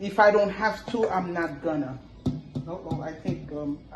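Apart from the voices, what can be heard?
No everyday noise stands out behind the speech.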